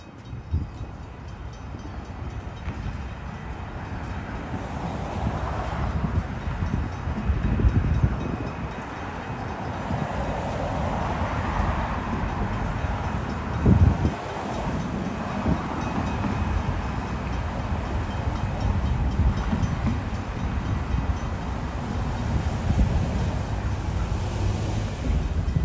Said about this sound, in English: looks like that we're just in time for a choo-choo train. Let's see what train's coming our way. Will be Amtrak.